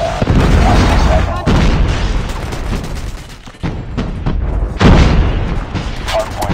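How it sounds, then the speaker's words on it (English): In Modern Warfare gameplay, a predator missile strike booms loudly amid ongoing gunfire and heavy blasts, with a second big explosion surge later and game voice announcements mixed in. "Friendly predator missile inbound."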